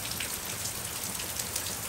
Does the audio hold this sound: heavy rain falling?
yes